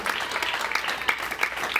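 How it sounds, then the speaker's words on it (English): Comedy club audience applauding at an open-mic night, a steady dense patter of many hands clapping close by, lasting the whole short stretch without talk. "Keep the applause going for Andy Hamilton, everybody."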